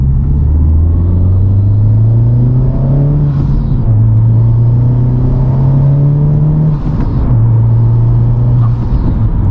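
A 2021 Honda Civic Type R fitted with a PRL intake accelerates loudly and close up, its engine drone rising steadily through two gear shifts with a deep rumble throughout.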